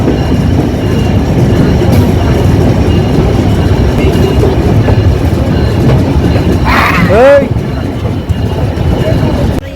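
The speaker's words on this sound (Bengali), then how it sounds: "চিত্রা এক্সপ্রেস জয়দেবপুর জংশন প্রবেশ করলো" Chitra Express train pulling into Joydebpur junction, a steady loud rumble of rolling wagons with a brief wheel squeal near the end, heard over background chatter.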